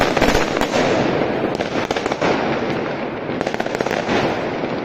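Rapid crackling bursts of New Year fireworks pop and bang overhead in a dense, continuous barrage, loud and close.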